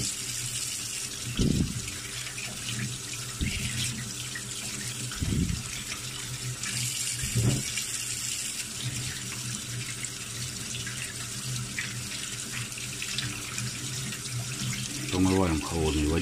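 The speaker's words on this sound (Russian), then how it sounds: "Сейчас мы ее промоем холодной водичкой" Cold tap water runs steadily into a sink while a chicken breast is rinsed, a continuous hiss with occasional splashes and handling thumps, and a person talks faintly in the background.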